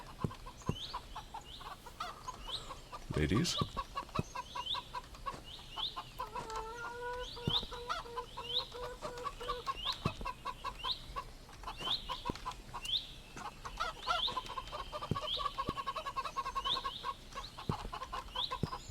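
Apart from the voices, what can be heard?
hens clucking in a horror video game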